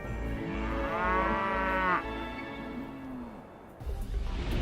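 Cattle on a farm near Matador, Saskatchewan, low a long drawn-out moo followed by a second, deeper call, with a rougher snort-like sound near the end, fairly close with no talk.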